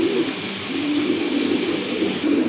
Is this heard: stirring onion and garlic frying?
no